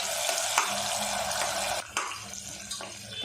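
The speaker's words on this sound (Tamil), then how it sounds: "தக்காளி பார்த்திங்கன்னா நல்லா சுருண்டு வர அளவுக்கு நம்ம வதக்கி விட்டுருவோம்" Chopped tomato and onion sauté in a pan, a steady close sizzle with sharp scraping stirs of the spatula punctuating it every second or so.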